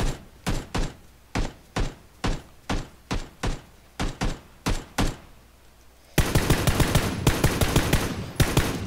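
Video game gunfire: a steady string of evenly spaced single shots for about six seconds, then a dense, louder burst of rapid fire with no talk over it.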